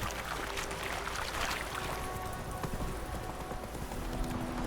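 Hooves of a horse galloping in The Witcher 3 on Nintendo Switch, a steady rapid clip-clop under continuous outdoor game ambience and water-like wash, fairly loud and close throughout.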